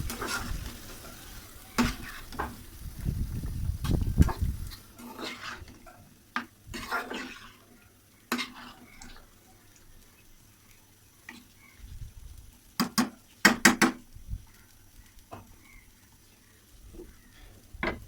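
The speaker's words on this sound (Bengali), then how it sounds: "মাছ কাঁচা থাকা অবস্থায় ভালো করে কষিয়ে নিলে লবণ মরিচ সব কিছু ঠিক মতন হবে" Loitta (Bombay duck) fish stir-fried in a pan, with soft sizzling and several clusters of sharp spatula scrapes and taps against the pan spread over time, close, with no talking.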